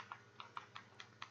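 Keys tapped on a keyboard while entering a setup word, six light evenly spaced clicks, faint and fairly close, with no voices over them.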